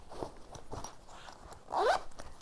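The zipper of a small quilted fabric pouch is pulled open and shut, giving a few quick, close, scratchy rasps, the last one louder.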